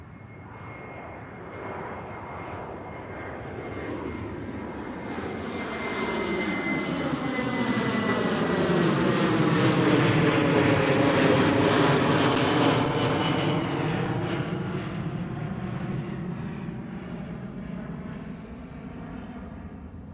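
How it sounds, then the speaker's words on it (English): KLM Boeing 737 airliner passing at Schiphol Airport, a broad jet engine roar that swells steadily to a loud, near peak around the middle with sweeping Doppler tones, then slowly fades as it moves away. "But this is KLM 737."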